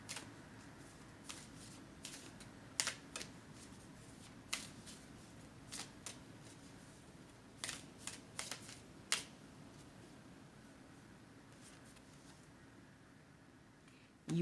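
Tarot cards shuffled and drawn from the deck in a quiet room, giving soft scattered flicks and a few sharper snaps spread across a faint background hiss.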